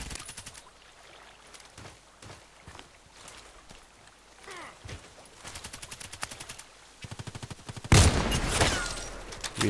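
Contract Wars first-person shooter gunfire: scattered single shots, then tight rapid bursts of automatic fire ending in a loud, dense volley, with no talking over it.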